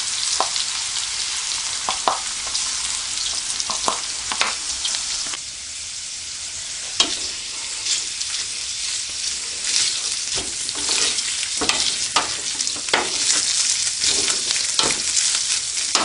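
Beef and onion frying in a pan for Afghan mantu filling, a dense steady sizzle with scattered crackles and occasional spoon scrapes, close and continuous without talk.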